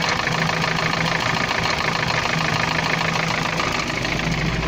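UAZ 417 engine idling with a steady mechanical knock, a continuous loud, close rumble with a rapid repeating tapping throughout and no voices.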